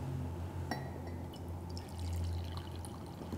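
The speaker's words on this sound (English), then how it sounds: "So we're just gonna pour a little bit in our cups here." Brewed chamomile tea poured from a teapot into cups, a soft trickling pour with a light clink of glass near the start, close and quiet, then a second fuller stream.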